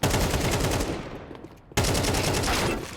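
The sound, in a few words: gunfire in a Counter-Strike esports match, video game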